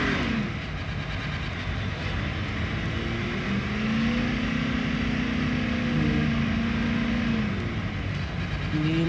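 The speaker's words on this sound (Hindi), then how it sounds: "हम गाड़ी चलाएंगे।" A car engine in a Call of Duty battle royale game drones steadily as the vehicle is driven, its pitch rising and falling slightly as it revs, with no talk over it.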